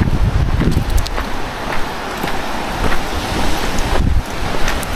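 Waves wash onto the sea shore of an island in British Columbia, a steady broadband surf rush mixed with wind buffeting the microphone, continuous and fairly loud with no talking.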